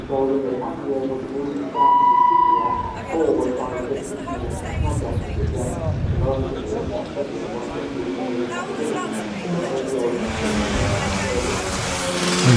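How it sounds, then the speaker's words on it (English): Ian Perrott's number 47 Kawasaki racing motorcycle rolls into the pit lane at the Manx Grand Prix Junior Post Classic, its engine note rising and holding steady beneath continuous commentary and crowd noise. "This is the arrival of Ian Perrott, number 47 on his Kawasaki"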